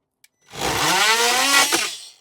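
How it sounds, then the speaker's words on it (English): A Dremel rotary tool cuts car dashboard plastic on a MINI R53, rising into a loud, close whine that lasts about a second and a half before fading quickly. "So if we get the Dremel in,"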